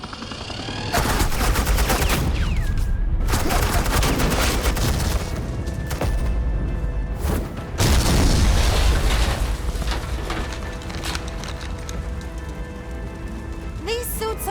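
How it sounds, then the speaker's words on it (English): Dense, rapid bursts of gunfire and heavy blasts of suppressing fire in the Batman Telltale game The Enemy Within, loud and nearly continuous for the whole stretch, with brief gaps between volleys. "This is Agent Quinn, suppressing fire."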